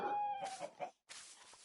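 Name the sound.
chickens clucking in Minecraft video game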